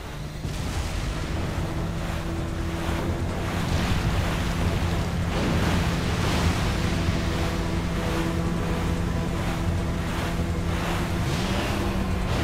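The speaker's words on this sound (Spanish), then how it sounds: "¡Tenemos olas atrás!" Ocean waves in the video game Resident Evil 4 make a loud, continuous roar of surf mixed with wind, with a low engine-like drone underneath and rolling swells across the whole stretch.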